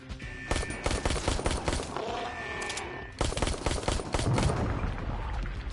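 Rapid bursts of gunshots in a PlayStation VR Ark Park shooting game, dense volleys of sharp close shots with a brief pause midway, then more firing.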